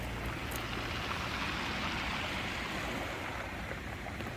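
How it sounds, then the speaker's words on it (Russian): Sea waves rumble steadily against the rocky shore at Anthony Quinn Bay near Lindos, a constant broad wash of surf with wind, no pauses, no voices. "Море сегодня рокочет"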